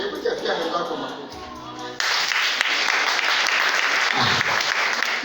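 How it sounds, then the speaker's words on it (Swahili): A church congregation bursts into applause, dense clapping that starts abruptly and carries on steadily, following a stretch of music and voices. "Hebu chafia mwenzako makofi."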